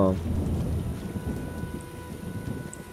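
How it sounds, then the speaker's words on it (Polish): A thunderstorm in The Witcher game rumbles low and steady with rain hissing over it, a continuous near wash that slowly fades across a few seconds. "Dobra, mamy burzę."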